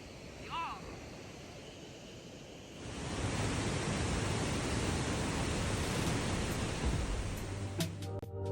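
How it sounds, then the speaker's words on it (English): A very large waterfall roaring as a broad continuous rush of falling water that swells louder partway through and then holds steady, with faint voices in the background. "this is the biggest waterfall I've ever seen"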